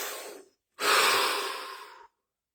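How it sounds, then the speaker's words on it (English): A slow, close breath: a short exhale trails off, then after a pause a longer, steady deep breath flows for over a second before stopping abruptly into silence. "Take a deep breath."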